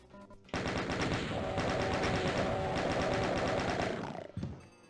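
A chaingun firing continuously in the DOOM video game, a loud, rapid, unbroken stream of shots lasting about four seconds before tailing off.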